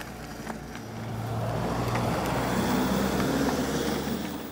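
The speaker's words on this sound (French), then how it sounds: "il y a le camping-car" A camper van rolls past on a hilly road near cyclists, its low engine rumble building steadily to a broad, close pass and easing slightly at the end, with no talk.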